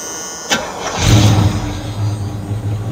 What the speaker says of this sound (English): I'm going to fire, fire it up so you can hear it on slow idle